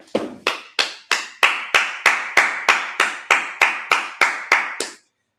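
A congregation at a Sabbath service claps together in slow unison, about fourteen sharp, evenly spaced claps over five seconds, close and loud, with no talking.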